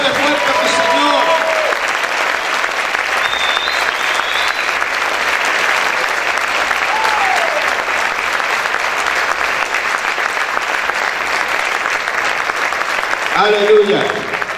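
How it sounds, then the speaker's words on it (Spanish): Sustained loud clapping from a worship congregation fills the space, a dense even roar of applause with faint voices and music threaded through it and swelling again near the end. "Aplaude, aplaude, aplaude fuerte a tu Señor."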